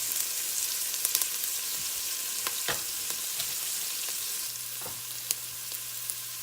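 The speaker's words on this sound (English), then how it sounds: "And now we're going to let those onions just start sauteing just a few minutes." Onions sauté in a pan for vegetable soup, giving a soft, steady sizzle and crackle with scattered pops and light stirring clicks, close and fairly quiet with no talking.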